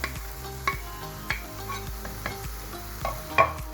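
Meat and ingredients sizzle in a pan on the stove as a utensil scrapes and stirs them in regular knocks, close and steady, with no talking.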